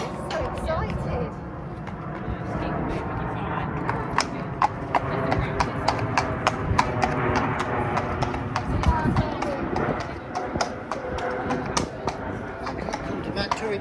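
An excited ex-racehorse bucks and canters at a showjumping outing, with hooves thudding in an irregular rapid rhythm, close and clear, while people talk over the hoofbeats.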